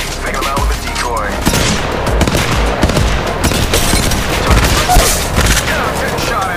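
Heavy, continuous gunfire from the mobile shooter Apex Legends Mobile, with dense bursts of shots and booming impacts layered over a loud, busy battle mix, close and unrelenting throughout.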